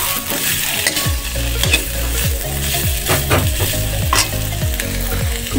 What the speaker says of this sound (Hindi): इसको हम ज़्यादा कुक नहीं करेंगे, सिर्फ 2 मिनट तक मिक्स करके कुक कर लेंगे।